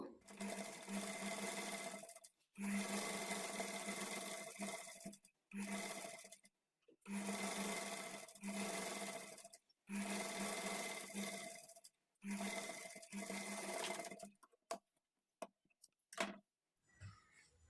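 Sewing machine stitching piping along a seam: several runs of rapid, steady mechanical whirring and clatter separated by short pauses, close but quiet, ending with a few brief stop-start bursts, while a voice talks over it.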